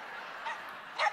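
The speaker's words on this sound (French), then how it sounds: "Ça, c'est mon petit chien, ok?" A small pet dog gives a couple of short, high yapping barks indoors, close and fairly loud, the second bark sharper than the first.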